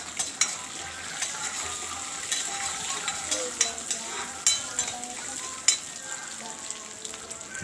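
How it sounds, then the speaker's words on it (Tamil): Steady sizzling of lentils frying in oil, with occasional stirring scrapes and clicks of a utensil against the pan, close and continuous. "இதை வதக்கி விட்டுக்கலாம்"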